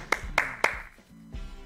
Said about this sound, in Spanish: Vamos a darle un pequeño aplauso.